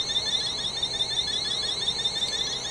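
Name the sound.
aircraft cockpit alarm going off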